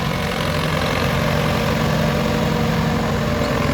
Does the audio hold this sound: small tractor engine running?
yes